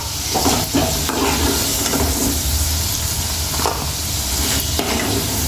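Potatoes frying in oil for potato rice, a loud, dense, unbroken sizzle up close, with a few soft stirring knocks along the way.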